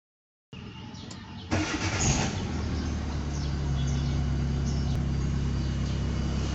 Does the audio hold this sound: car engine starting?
yes